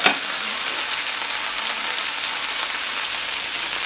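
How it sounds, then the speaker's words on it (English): Capers hit hot fat in a pan with a brief initial splash, then a steady, dense sizzle like light rain continues close and loud, with no talking. "You want to get those capers in your pan"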